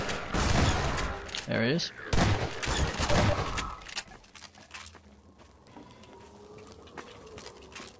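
Rapid bursts of pulse rifle fire from Half-Life 2, loud and close, rattling through the first four seconds under a brief spoken line, then fading to quieter game ambience.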